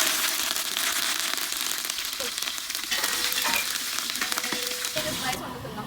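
Curry leaves, with cloves, cardamom and cinnamon, hit hot oil in a large pot for a 10 kg batch of rice and chicken, giving a loud, crackling sizzle that sputters steadily near the pot, with faint background voices.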